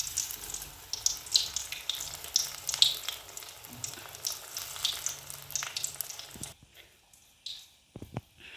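Chili bajji fry in hot oil with a close, continuous sizzle and scattered crackling pops for about six seconds, then the sound drops away to quiet with faint clinks.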